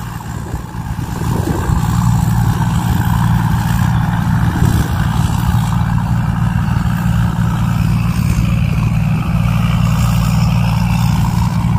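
A Thai Seng Yont Super Jiw combine harvester engine runs loud and steady while it harvests a paddy field, a continuous low rumbling drone that swells slightly at the start and then holds constant.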